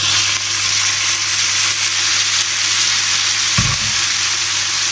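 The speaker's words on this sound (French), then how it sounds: "On continue à faire griller notre ail avec les arômes et tout ce qu'il y a avec." Garlic sizzling loudly with aromatics in a pan for pasta, a dense continuous close fry with a brief low clunk of a utensil or pan toward the end, no talk.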